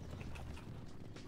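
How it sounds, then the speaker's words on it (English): Horses gallop in the medieval strategy video game Stronghold 2, a quick, busy patter of hoofbeats over a dense rumbling battlefield background, brief and moderately loud. "Galloping horses."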